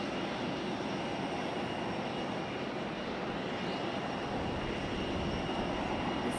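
A Copa Airlines plane at Raleigh-Durham International Airport gives a steady, broadband jet roar that holds at an even level throughout, heard from a distance with no talking.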